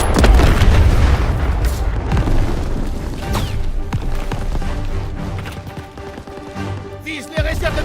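Heavy booming cannon fire from German PaK anti-tank guns rumbles continuously amid dense battle noise in Call of Duty: WWII, loud and close, with sharp blasts cutting through the din.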